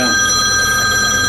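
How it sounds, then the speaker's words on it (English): A telephone rings loudly and steadily throughout the brief moment, a sustained electronic bell tone with no talking over it, heard during work on a Symmons tub and shower valve. "the flipping phone today's going ringing off the hook"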